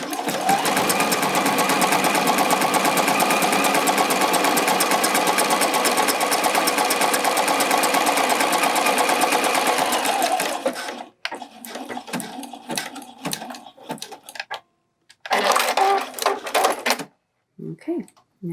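A sewing machine stitches elastic onto a bralette in a long, steady run of about ten seconds, then gives several short stop-start bursts, close and loud.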